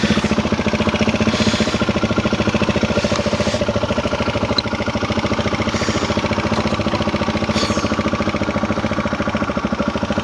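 A motorcycle engine idles steadily and close by, a continuous rumbling pulse with a regular mechanical knock that holds level and unbroken throughout, with no voices over it.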